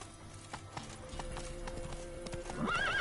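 Roach the horse gallops in The Witcher 3, steady clip-clop hoofbeats close by, ending in a sharp neigh.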